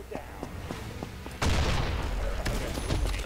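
Gunfire in the shooter game Combat Master: a few light repeated shots, then a loud burst of heavy firing that carries on with scattered reports.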